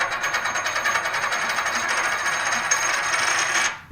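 A silver coin, suspected of being fake, is dropped onto a hard surface again and again, giving a dense run of bright metallic rings and clinks that stays loud and close for several seconds before cutting off.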